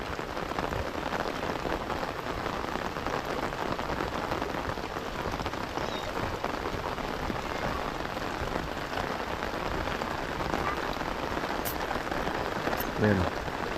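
Heavy rain pours steadily throughout, a dense, continuous hiss of drops hitting surfaces close by.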